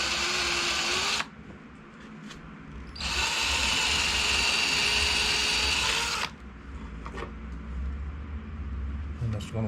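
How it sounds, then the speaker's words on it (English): A power drill fitted with an 11/64 bit pre-drills holes in corner posts for a wooden cricket cage, with two whirring bursts close by, a short one and then a longer steady run, and talk in the pause between them. "I've got to also pre-drill these."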